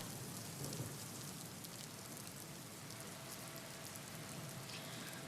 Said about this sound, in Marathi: सकाळपासूनच अगदी सातत्यानं पाऊस पडत असलेला बघायला मिळत आहे